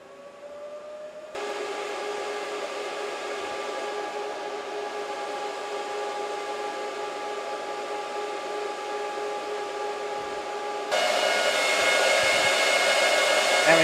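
A Bitmain Antminer Z9 crypto miner spins up, its fans a loud steady whine with layered tones that holds, then jumps louder in a sudden step near the end, close by with no voices.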